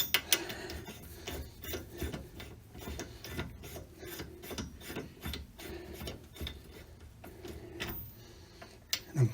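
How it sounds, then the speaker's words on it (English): Socket turned by hand to snug wheel spacer nuts on a Jeep Cherokee, quiet repeated clicking and rubbing metal scrapes in an uneven rhythm, close and faint. "just use my socket end to finish hand tightening these"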